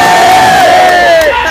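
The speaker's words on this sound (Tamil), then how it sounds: "இந்த கைத்தட்டல்கள் எல்லாமே நம்ம லெஜண்ட் தான் போய் சேரும்." Movie theater crowd at a screening of The Legend cheering and shouting loudly and continuously, with a sustained whoop rising above the roar throughout.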